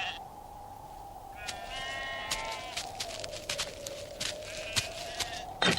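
Sheep bleat repeatedly in a Hindi Bible story scene, several wavering calls rising over a steady droning background with light scattered clatter, fairly close and clear throughout.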